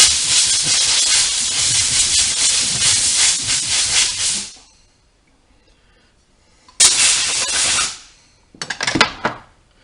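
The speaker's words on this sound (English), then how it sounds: "Take the blow gun, throw some air in it." A compressed-air blow gun blows dirt out of a fan's motor housing in a loud, sustained hiss for about four seconds, then two shorter bursts after a pause.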